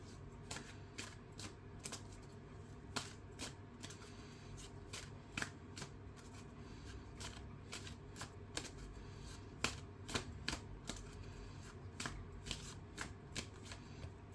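Tarot cards are shuffled by hand in quick, crisp riffling bursts that repeat steadily and fairly close, with no talking.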